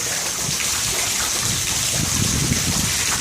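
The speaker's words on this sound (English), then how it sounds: "This water is just accumulating here like crazy." Storm runoff rushing and pooling under a bridge during a thunderstorm, a loud, steady gushing of water with a churning low rumble that swells toward the end.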